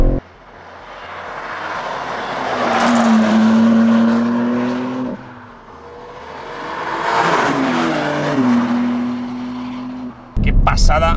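A 2024 BMW M3 Touring's engine revs hard under acceleration in two loud, rising surges, its pitch climbing then dropping at each gear change, ending with a brief clatter.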